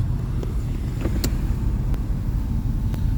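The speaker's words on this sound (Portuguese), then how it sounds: "ouvindo o barulho interno do carro, vendo se tem alguma coisa errada" Steady low rumble fills a used car's cabin with windows closed, driving over speed bumps, with a few faint clicks and knocks over the constant road and engine drone.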